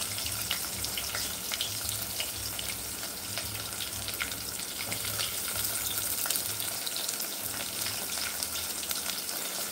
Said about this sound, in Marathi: जिरं मोहरी टाकलेले आहे मी. आता टाकते मी ते कांदा